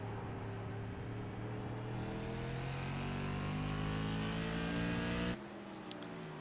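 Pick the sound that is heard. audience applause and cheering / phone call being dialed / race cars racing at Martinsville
race cars racing at Martinsville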